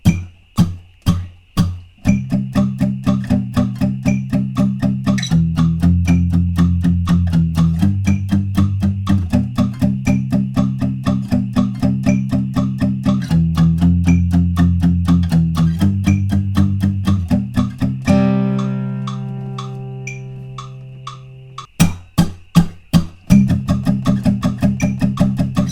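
An electric guitar chugs a palm-muted outro riff, with a steady stream of fast, tight, repeated muted notes shifting between chords. It pauses briefly for a sustained ringing chord over a steady click before the chugging resumes.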